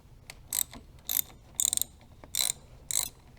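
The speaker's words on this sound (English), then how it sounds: "Get your ratchet." A ratchet wrench loosens the terminal nut on a car battery, five short bursts of rapid clicking spaced roughly half a second apart, close up and fairly quiet.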